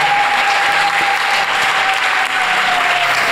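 A church congregation at an evening prayer service applauds loudly and continuously, a dense, steady wash of many hands clapping together that barely dips throughout.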